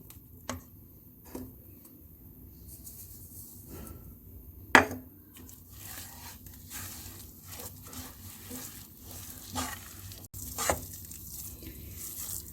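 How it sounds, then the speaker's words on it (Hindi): Besan halwa being stirred and roasted in ghee with ground coconut, giving faint scraping and clinking of a spoon against the pan at an irregular pace, heard up close over a low background hum with no talking. "पिसा हुआ नारियल डालेंगे और मज़ीद 2 मिनट हलवे को भूनेंगे।"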